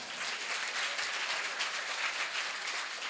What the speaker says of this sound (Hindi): एक बार हाथ नीचे कर लो और अपने लिए ही जोरदार तालियां बजाओ।